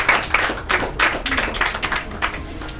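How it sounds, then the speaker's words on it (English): Audience clapping at a Children's Day event, a burst of many hands applauding a child, steady and moderately loud throughout, with no talking. "let's clap for him again"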